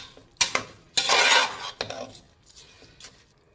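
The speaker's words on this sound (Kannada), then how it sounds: "ಮಿಕ್ಸ್ ಮಾಡಿ ಅಕ್ಕಿನ ಒಂದು 2 ನಿಮಿಷ ಅಕ್ಕಿನ ಮಸಾಲೆ ಜೊತೆ ಉರಿಬೇಕು" Spoon scraping and clattering against a pan as rice is stirred and fried with masala, several close bursts of metallic scraping with short pauses between, no voices.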